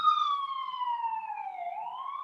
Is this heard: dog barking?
no